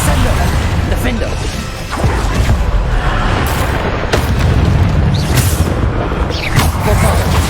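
Repeated booming blasts of the Bombarda spell in Hogwarts Legacy, loud and continuous, with crashes and bursts layered over each other and a voice heard among them.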